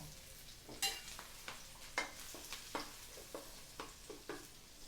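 Onion and garlic go into hot oil for lechon paksiw, giving a faint, quiet sizzle. Soft irregular clicks and scrapes from stirring sound at intervals, with no talking.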